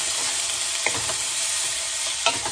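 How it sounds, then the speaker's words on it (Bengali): Broccoli tossed in a pan with a little oil fries with a loud, steady sizzle, and a spatula scrapes and stirs it in short strokes. "এবারে ব্রোকলিটা দিয়ে ভালো করে নেড়ে করে নেব।"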